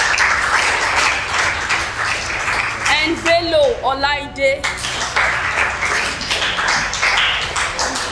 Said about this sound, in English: if you are clapping, make sure you clap very well